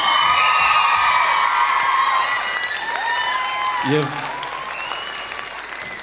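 A crowd at an X Factor gala show applauds and cheers, the broad clapping rolling steadily while a voice speaks over it and a brief shout cuts through near the end.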